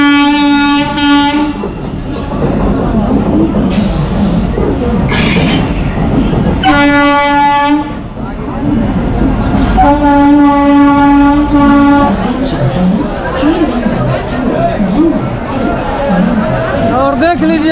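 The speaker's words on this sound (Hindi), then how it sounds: "ये लगाई जा रही है संपूर्ण क्रांति एक्सप्रेस नई दिल्ली के प्लेटफॉर्म नंबर 16 पर वेब 7 के लोकोमोटिव के साथ" The Sampoorna Kranti Express with a WAP-7 electric locomotive stands at platform 16 of New Delhi station, its horn blaring in repeated long blasts over loud platform crowd chatter and station bustle throughout.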